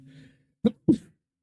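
A short, sharp double burst of a sneeze, close to the microphone, following a faint low murmur.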